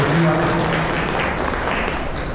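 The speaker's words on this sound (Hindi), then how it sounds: "एक बार ताली बजाएं इनके लिए" Audience clapping for newly admitted students at a school welcome ceremony, steady dense applause filling the room for a couple of seconds, with a voice speaking at the start.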